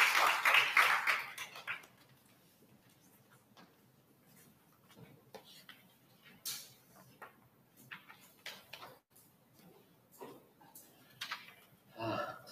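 At a sustainable development college entrance lecture, an audience bursts into a brief round of clapping for about two seconds, then the room falls quiet except for scattered small knocks and shuffles.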